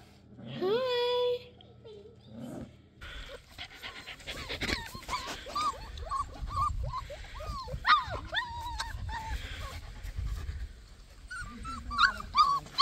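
Young puppies with their mother whimper, whine and yip in high-pitched bursts, mostly close by, with a person briefly talking at the start and soft shuffling underneath.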